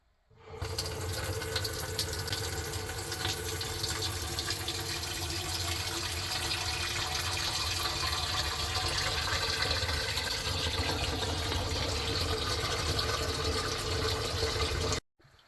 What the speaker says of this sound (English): So I'm gonna go ahead and open the water from above.